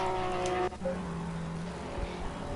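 Orange Bentley race car in a racing video game, wet Suzuka circuit, working through the hairpin: engine drone with a sharp gear-change cut early on, then a steady lower tone held through the corner.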